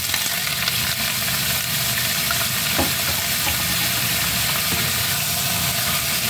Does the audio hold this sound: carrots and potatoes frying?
yes